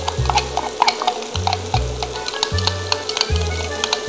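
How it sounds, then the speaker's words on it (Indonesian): Mushrooms and chili sizzle and crackle in hot oil in a pan, a steady close fry with a recurring scrape and clatter as they are stirred, no talking. "Masukkan mushroom. Dan juga chili tadi. Kita akan goreng dorang sama-sama sekali."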